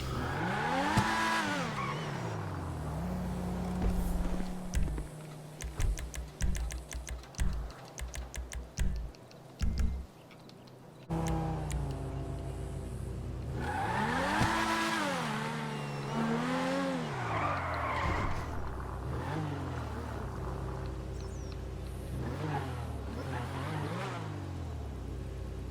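Progen GP1 supercar in GTA Online driving and cornering, with a revving engine that rises and falls in pitch through the turns, bursts of tire squeal, and a brief choppy stretch of clicking sounds midway.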